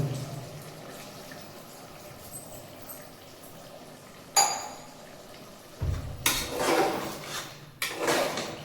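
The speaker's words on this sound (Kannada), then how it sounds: "ನಾನು ಒಂದು ಸ್ವಲ್ಪ ಹಾಲು ಹಾಕ್ತಾಯಿದ್ದೀನಿ, ಅಳತೆ ಪ್ರಕಾರವಾಗಿ." Milk pours into a cooking pot in a few short bursts, with clinks and knocks of kitchenware nearby.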